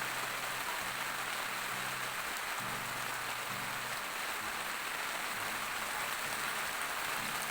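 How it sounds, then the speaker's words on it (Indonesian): Rain patters on a tent at a campsite at the foot of Mount Rinjani in a steady, even hiss of drops that holds throughout with no one speaking. "gerimis-gerimis sudah mulai turun ini"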